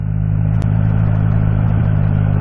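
A Triumph Trident 660 motorcycle engine pulls steadily uphill in third gear at low revs, a loud close, even drone with a continuous throbbing note and no break.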